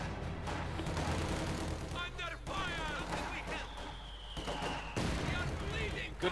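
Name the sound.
gunfire and mortar in video game Company of Heroes 2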